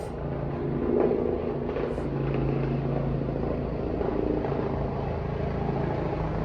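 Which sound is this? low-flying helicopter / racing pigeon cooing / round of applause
low-flying helicopter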